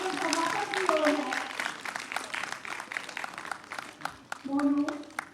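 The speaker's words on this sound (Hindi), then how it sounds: "आपकी तालियां नहीं रुकनी चाहिए" An audience claps through a closing ceremony for a youth theatre workshop, a loose patter of applause running under a speaker's voice on a microphone.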